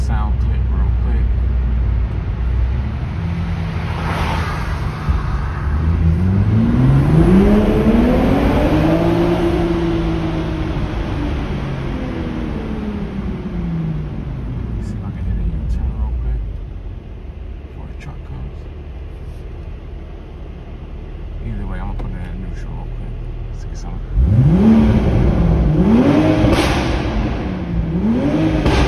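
A 2022 Toyota GR Supra engine revving inside a tunnel, with a long rising and falling sweep echoing off the walls, a quieter idle stretch, then another loud rev burst near the end.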